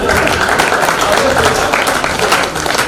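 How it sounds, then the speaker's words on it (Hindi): An audience claps steadily at a Haryanvi comic poetry recital, dense and close for a few seconds with faint crowd murmur beneath. "ताली भी चेतना के लिए बज रही है"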